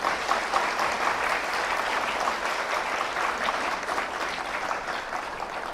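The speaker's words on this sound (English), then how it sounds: "So a big round of applause for all of them." Convocation audience giving a round of applause to the students' parents and relatives in a large hall; sustained, even clapping from many hands throughout, with no talk over it.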